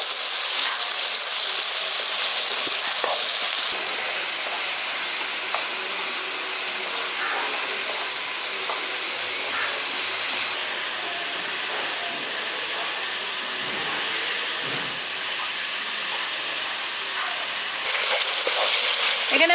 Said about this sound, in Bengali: এবার মশলাটাকে খুব ভালো করে কষিয়ে নিচ্ছি।